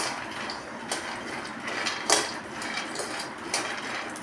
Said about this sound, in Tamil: நம்ம கிளறி விட்டுக்கிட்டே இருக்கலாம்